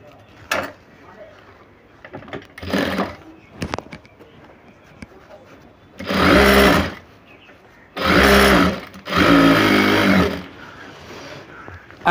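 A sewing machine stitching a blouse runs in three loud, steady whirring bursts of one to two seconds each, with small clicks and handling noises between them.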